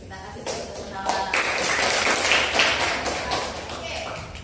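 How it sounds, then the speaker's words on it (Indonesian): Students in a classroom clap their hands together after a maths problem is solved, a dense burst of claps filling the room with voices murmuring underneath. "Kita kasih tepuk tangan."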